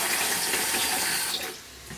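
Water runs from a kitchen tap as a knife is rinsed of metal residue after sharpening, a steady close splashing stream that eases off near the end.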